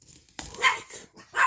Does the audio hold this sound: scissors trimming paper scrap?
no